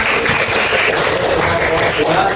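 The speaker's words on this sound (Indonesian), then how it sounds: "Iya, kasih tepuk tangan" A group of students in a classroom gives steady, loud applause for a team's presentation, with voices mixed into the clapping throughout.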